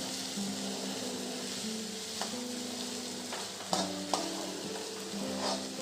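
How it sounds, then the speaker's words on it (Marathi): Chopped onion frying in hot oil with a steady sizzle while a spatula stirs it, producing occasional sharp scrapes and knocks against the pan; close and clear, with no talking. "कांदा तेलात छान आपण आता लालसर भाजून घेऊ छान परतवत राहायचा"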